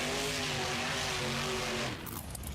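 A monster truck slides during an arena competition, its engine roaring loud and sustained with wavering revs and a tire squeal edge before the sound eases off near the end.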